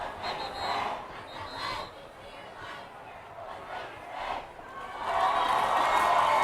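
Linn-Mar high school football crowd cheering in the stands during a game against Ottumwa, a distant, broad roar that swells, dips and then builds louder toward the end, with speech over it.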